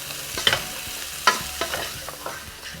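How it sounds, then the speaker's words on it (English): A potato and chickpea chaat mixture with fresh coriander leaves is stirred in a pan off the hob. Close, repeated spoon scrapes and sharp clinks come in uneven strokes, with no talking. "So I'm mixing this off the heat."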